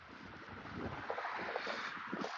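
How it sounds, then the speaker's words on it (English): Strong wind buffets a phone microphone outdoors, a steady rumbling roar with gusty swells and no talk. "It's windy as hell."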